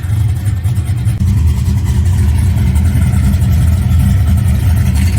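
A Suzuki Samurai engine idling loudly and steadily with a deep low rumble, holding constant throughout without revving.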